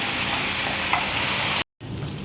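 Raw red chillies fry in a pan for fried rice with a loud, continuous sizzle and crackle close to the microphone, stirred partway through, then briefly cut off before the sizzling resumes.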